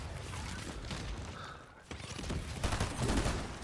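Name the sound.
rockets being fired in Fortnite, from a video game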